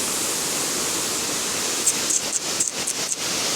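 Steady broadband rush of a waterfall, heard up close from its top level, loud and continuous with slight fluctuations toward the end.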